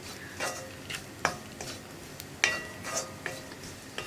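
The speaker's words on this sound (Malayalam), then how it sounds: "നമ്മുടെ തേങ്ങ ഒരു 2 മിനിറ്റ് ഒന്ന് ഇളക്കി കൊടുത്തു വരുമ്പോൾ നന്നായിട്ട് കുക്കായി വരും" Grated coconut is stirred in a pan for a chickpea and egg thoran. Soft scraping strokes of a spoon come at an uneven rhythm over a faint sizzle, up close and quiet, with no talking.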